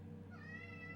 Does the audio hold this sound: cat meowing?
yes